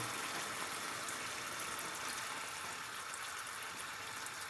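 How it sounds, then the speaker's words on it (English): Water poured into a simmering pan of butter chicken sauce, a steady broad hiss of liquid running in and bubbling, even throughout, with no voices. "And then we'll add some water."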